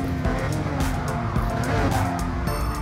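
Race car in Gran Turismo Sport braking with heel-and-toe downshifts, a loud steady engine drone with quick blips and tire squeal running throughout, no talk.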